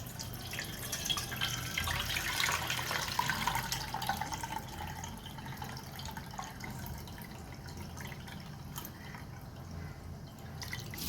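Water draining off washed basmati rice for beef biryani, a continuous splashing trickle and dripping close by, steady at first and easing toward the end, with no talking.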